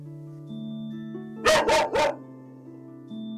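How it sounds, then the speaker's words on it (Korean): An 11-year-old dog barks three times in quick succession, loud and close, over a steady indoor hum with no talk. "누가 지나가는 소리가 좀 크게 들리거나 하면 굉장히 이제 격렬하게 짖고"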